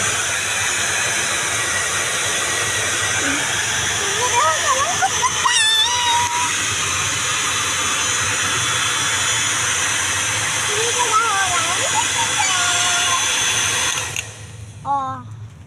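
Warm air blowing steadily onto a wet parrot's feathers to dry them after a rain bath, a constant close hiss that runs throughout and cuts off near the end, with a voice and bird chirps over it.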